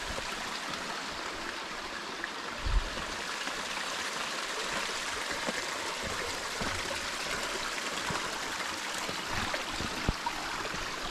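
Steady broadband rush of a stream running over loose rocks at a trail crossing near Lost Lakes, Seward, continuous and close, with a few brief knocks from stones or footsteps.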